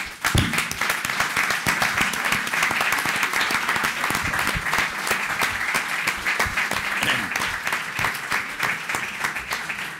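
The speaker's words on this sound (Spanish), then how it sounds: "esto merece un aplauso" Applause from the audience at the opening of the International Congress of Jacobean Associations in Ourense, steady dense clapping from a large hall crowd, with a few distinct close hand claps, continuing loudly for the whole stretch.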